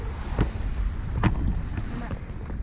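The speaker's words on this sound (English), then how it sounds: "The wind is really nice right now." Wind blowing across an open sailboat under sail with no engine, near an atoll in French Polynesia, heard as a steady broad rush with water wash and a few brief bumps, and faint speech now and then.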